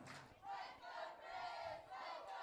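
Wrestling crowd at a Bluff City Wrestling event roars and cheers steadily in support of a favored wrestler, a dense, sustained wash of voices with swelling shouts throughout.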